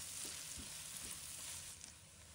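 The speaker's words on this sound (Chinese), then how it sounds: "再把葱、姜、蒜末放入锅中。 豆豉也加进来，" Pork belly stir-frying in a wok with scallion, ginger, garlic and fermented black beans, a steady close sizzle with a few soft stirring scrapes, no voices.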